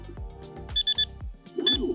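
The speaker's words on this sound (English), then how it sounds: "then it will make an audible beep" Electronic power-on beeps from an NDS bait boat handset: a short cluster of high, clipped tones, then another brighter burst, close and fairly loud amid quiet clicks.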